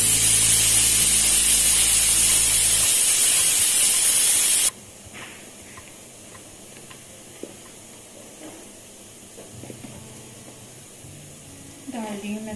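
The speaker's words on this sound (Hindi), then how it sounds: "सीटी आ गई है, सिर्फ 2 सीटी में ही गोश्त।" Pressure cooker on a home stove cooking meat (gosht) lets out a loud, steady steam hiss and whistle for several seconds, then cuts off abruptly, leaving quiet kitchen sounds with faint clinks.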